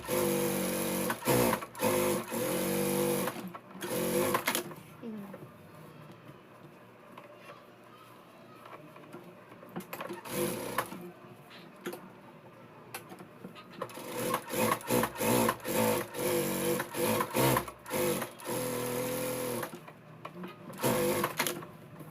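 A sewing machine stitches lining onto the main part of a Punjabi dress in long, rapid, rattling runs that stop and start, close up, with quieter handling between runs and a voice talking at times.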